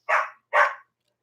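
A dog barks twice in quick succession, loud and close, each bark short and full, then silence.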